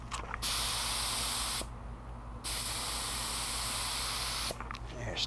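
Paint spray gun hissing in steady bursts, loud and close, with a short pause in the middle and another break near the end over a low background hum.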